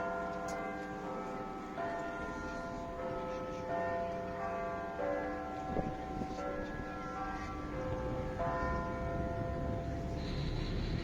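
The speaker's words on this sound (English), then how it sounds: "let you listen to the bell. Remember, the first bell is the quarter bell." A large clock tower bell, the quarter bell in London heard from a river cruise, rings in a slow sequence of faint, lingering tones that hang over a low, steady background hum.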